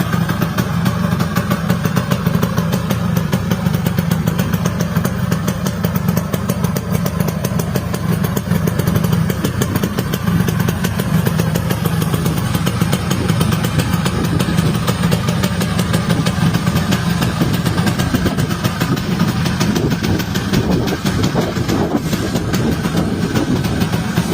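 A Yamaha RXZ two-stroke motorcycle engine runs continuously for the whole stretch, a loud, close, steady buzzing drone with no talk over it.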